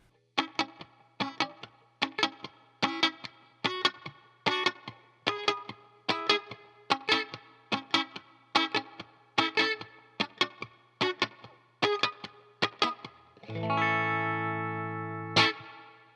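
Electric guitar strums reggae-style chords in a duo arrangement with a steady pattern of short, choppy offbeat stabs, then closes on one sustained ringing chord.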